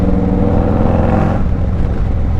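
A 2025 Harley-Davidson Street Glide Ultra with a Zipper's performance upgrade rumbles loudly and revs, its throaty drone holding steady before dropping slightly in pitch.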